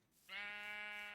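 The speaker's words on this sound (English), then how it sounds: "I was trying to find more sheep, which I have." A single sheep bleat from the Minecraft video game, fairly quiet: one drawn-out, wavering baa that starts abruptly after a short near-silence and holds until the end.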